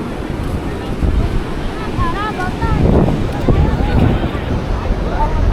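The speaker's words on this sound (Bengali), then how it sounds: "এইখান থেকে সমুদ্রের ঢেউগুলা অনেক বড় বড় এবং অনেক সুন্দর লাগতেছে।" Big sea waves roll and wash in under steady wind buffeting the microphone on Cox's Bazar beach, a continuous loud surf roar, with a voice talking over it.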